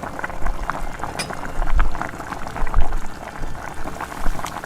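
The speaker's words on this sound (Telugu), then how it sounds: "కొంచెం వాటర్ పోసుకోవాలి." Water poured into a Hyderabadi Nizam-style fish fry masala mixed with lemon juice and oil, giving a steady, close liquid splashing and bubbling hiss that swells and dips over a few seconds.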